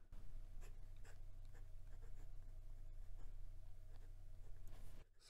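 A medium steel-nib Tianzi piston-filler fountain pen scratches and glides across Clairefontaine 90 gsm paper in quiet, close strokes with small taps, over a low steady hum, until the writing stops near the end.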